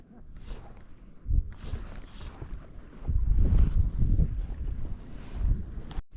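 Gusty wind buffets the microphone in low rumbling surges on a pond while fishing from a boat, with water waves lapping and sloshing close by, louder in the second half.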